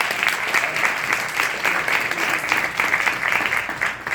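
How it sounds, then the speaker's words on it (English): An audience at a comedy show applauds armed forces veterans, a loud, dense burst of clapping from a full room that holds steady with slight swells for several seconds. "Let's give them a big round of applause."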